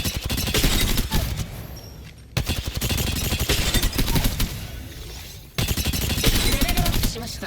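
Rapid gunfire on a shooting range in a video game, played on a PS5 DualSense controller fitted with a linearized Gulikit TMR stick. Dense bursts of shots come loud and close, broken by two brief pauses.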